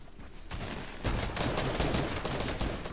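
Sustained automatic gunfire rattles in a video game, rapid shots building into a loud, dense barrage that keeps going without pause, with no voices over it.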